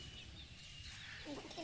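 Hybrid chicks cluck softly and peck at food nearby in a home yard. The clucks are faint, sit over a low rumbling background, and grow a little louder toward the end.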